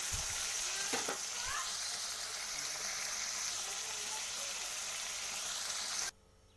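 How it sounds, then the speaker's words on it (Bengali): River prawns frying lightly in hot oil give a steady close sizzle with a couple of brief knocks near the start, running continuously for about six seconds before cutting off abruptly; no one speaks. "দেখুন আমি এবার মাছগুলো ভেজে নেব এগুলো হালকা করে আমি ভেজে নেব"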